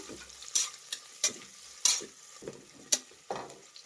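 Two medium onions, sliced lengthwise, fry in a pan for tomato bath, a soft sizzle broken by sharp scraping clicks of a stirring spoon at irregular intervals, close and fairly quiet.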